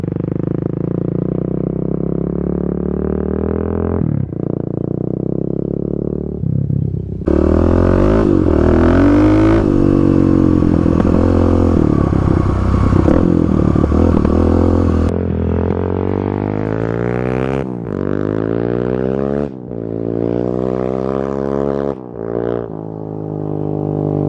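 A 35 hp Kawasaki KLX351 dirt bike rides along a dirt road, its single-cylinder engine revving through gears with rising and falling pitch sweeps, loud and close, punctuated by brief throttle cuts and wind buffeting.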